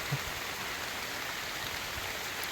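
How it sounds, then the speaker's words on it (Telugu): A cyclone's heavy downpour hammers down without pause, a thick, constant hiss of rain filling the whole space, loud and close with no one talking. "అసలు ఏమీ కనపడతలేదు భారీ వర్షం కురిసేస్తుంది"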